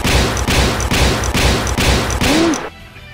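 Rapid, evenly spaced bursts from a big gun fire in a steady barrage, about six loud blasts in a row that stop suddenly, followed by a brief rising whoosh and quiet.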